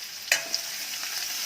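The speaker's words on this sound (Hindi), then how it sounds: "अब इसमें प्याज डालेंगे, कटा हुआ, एक मीडियम साइज का प्याज लिया था जो कि बारीक काटा है, और इसको हल्का गुलाबी होने तक भूनेंगे।" One medium onion, finely chopped, frying in a pan for dal chawal while being stirred, a steady hiss of sizzling oil with a sharp scrape of the spoon, close and alone without talk.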